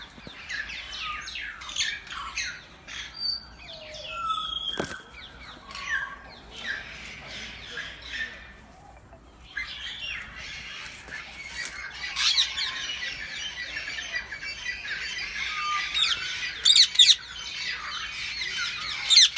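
Many birds at a zoo squawk, chirp and call at once, overlapping and continuous, some shrill calls close by and others farther off, with a brief quieter gap midway.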